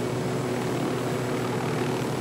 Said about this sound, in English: Got helicopters for days over here.